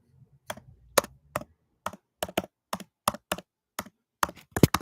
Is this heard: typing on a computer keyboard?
yes